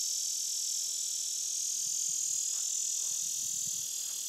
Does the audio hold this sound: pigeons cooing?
no